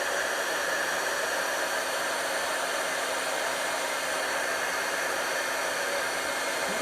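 Heat tool blowing to heat-emboss gold stars on Stampin' Up! Christmas cards, a steady, close whooshing hiss with an even hum that stays constant throughout with no voices.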